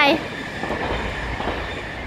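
A train rumbles past with a steady rolling noise, following a brief voice at the start.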